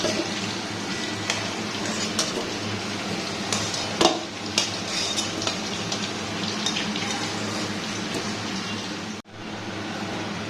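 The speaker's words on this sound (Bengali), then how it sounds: "আলুগুলো ভাজা হয়ে গেছে," Fried potatoes are lifted out of hot oil in a pan while mutton biryani is being made, a dense continuous sizzle with scattered clinks and scrapes that cuts out abruptly near the end.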